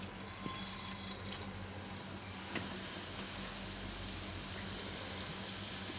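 Whole cumin seeds sizzling in hot oil in a pan while cooking a Gujarati corn and potato curry, a steady close hiss and crackle with no voices.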